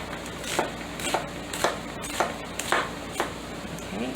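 Steady knife strokes chop an onion on a cutting board, about eight crisp evenly paced taps close by, with kitchen room tone behind.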